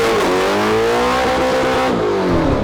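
A Ford GT40 driven fast roars loudly and close, its engine revving steadily with a shifting pitch throughout, and no voices are heard.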